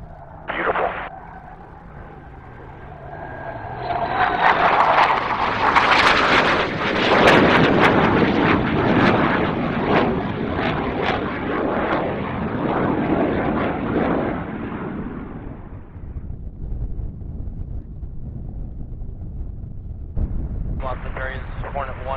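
A low-flying military jet, call sign Hornet, roars through the Mach Loop valley on a fine-weather day, building from a distant rumble into a loud, sustained broadband blast for about ten seconds before fading, with radio chatter at the start and end.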